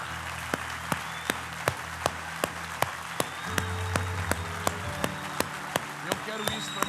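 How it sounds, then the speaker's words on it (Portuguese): A church congregation claps loudly in steady, evenly spaced beats throughout, with a low hum of voices and music beneath the applause. "Aplaude ao Senhor bem forte por essa palavra."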